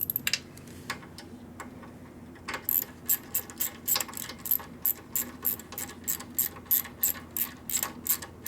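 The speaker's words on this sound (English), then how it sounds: "where's that quarter drive ratchet?" A quarter-inch drive ratchet clicks in quick, regular bursts of pawl ticks during work on a 1972 Harley XL Ironhead Sportster bobber, close and clear with no talking.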